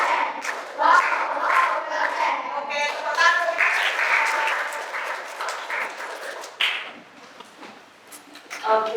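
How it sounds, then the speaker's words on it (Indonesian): Pupils in a mathematics classroom clap together on the teacher's cue, with rhythmic claps mixed into lively voices chanting and calling out over the whole stretch. "Ayo, tepuk."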